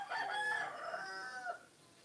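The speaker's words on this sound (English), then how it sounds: "That's why this rooster is just making noise all over the place." A rooster crows in a village around midday, one full cock-a-doodle-doo with a rising, wavering call that tails off, fairly close and clear with no voices over it.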